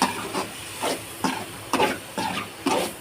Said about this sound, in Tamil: தக்காளி தக்காளி போட்டு நல்லா வதக்கலாம்